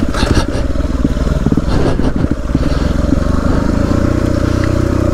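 Dirt bikes, a Yamaha WR250R, KTM 300EXC and YZ450F, riding slippery hilly trails in Wombat State Forest, a close, loud, continuous engine roar with rattling and throttle pulses throughout.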